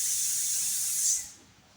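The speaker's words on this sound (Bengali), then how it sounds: "প্রেশার কুকারে সিটি মারছে" A pressure cooker lets off steam in a sharp, steady hiss that holds for over a second, then quickly tapers off and leaves a faint background.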